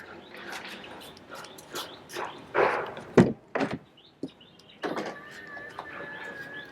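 A Mercedes GLA 220d car door clicks and thumps open amid short clunks and rustling, followed by a faint electric whir of the mirror unfolding and quiet background hum.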